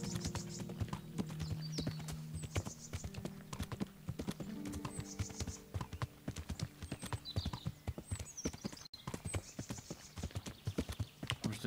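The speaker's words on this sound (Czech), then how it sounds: "Už vlastně nejedu po koni," Horse hooves clip-clop in steady rhythm in the medieval role-playing game Kingdom Come: Deliverance, close and distinct, with a low tonal hum under the first half and a brief neigh-like sound.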